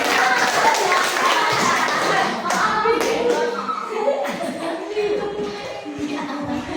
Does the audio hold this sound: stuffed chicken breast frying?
no